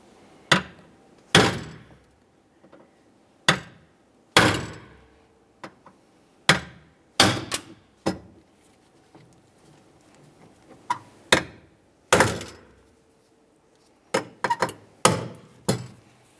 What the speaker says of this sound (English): To remove these, you can use a hammer and a punch.